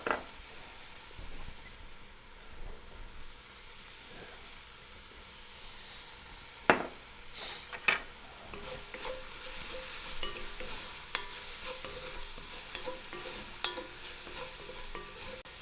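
Garlic and shallot sizzle steadily in a pan for beef Wellington, a soft continuous hiss with occasional sharper crackles and light stirring clicks, no voices over it.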